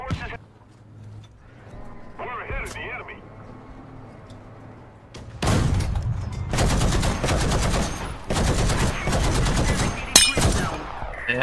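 A .50 cal machine gun on an M8 LAC fires in a video game, bursts of loud rapid shots in the second half after quieter engine rumble, with a brief voice earlier.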